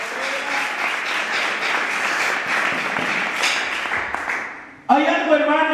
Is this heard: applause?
yes